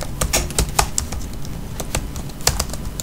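Fingers type on a computer keyboard while entering a school name into test-paper software: a steady run of close, clicky keystrokes with uneven gaps between them and no voice.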